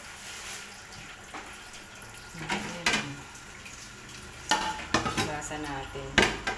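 Ceramic plates and dishes clink and clatter as they are washed and handled beside a rice cooker, with sharp scattered knocks amid running water, close and fairly quiet.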